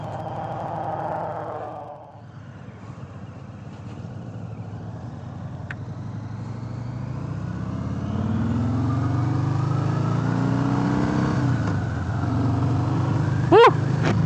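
A 2018 Harley-Davidson Sport Glide motorcycle on a test ride, its engine rumbling low and rising as it accelerates under steady wind noise, with a brief sharp whine near the end.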